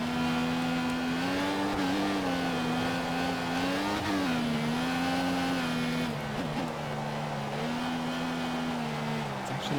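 An F1 car engine in the F1 2014 racing game drones loudly and steadily, its pitch rising and dipping slightly with throttle changes and briefly wavering near the end.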